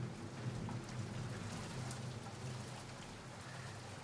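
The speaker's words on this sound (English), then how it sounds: "focus on the sounds of the rain." Steady rain falling during a rainstorm, a faint, even hiss of drops with a low rumbling undertone throughout.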